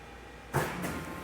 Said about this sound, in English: So that's the sound of the pump turning up.